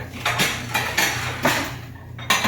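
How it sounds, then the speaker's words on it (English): Plates and cutlery clatter and clink as salad is served, with a steady series of close, sharp knocks of dishes and utensils and no talk. "Okay, Jason, where's The plates, can you help with the plates?"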